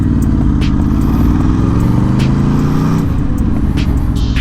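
A sport bike motorcycle rides down a street, its engine droning loud and steady throughout, with a shift in pitch partway as the rider eases off.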